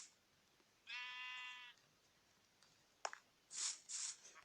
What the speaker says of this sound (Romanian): Cum vedeți aici am foarte multe oi.